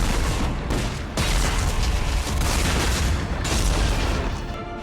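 Missiles strike a Reaper in the video game Mass Effect 3, producing a dense, continuous barrage of heavy booming blasts and crackling impacts, loud and sustained throughout.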